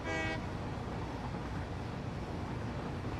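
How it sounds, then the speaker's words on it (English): Two trains running at once in a game, rumbling steadily throughout with a short horn-like toot right at the start, fairly loud with no voices. "Look at this, 2 trains at the same time."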